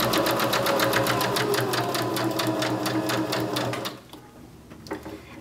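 A sewing machine runs steadily, stitching quilt patchwork pieces in a chain-piecing session, its rapid needle rhythm loud and close for about four seconds before stopping abruptly into quiet room noise.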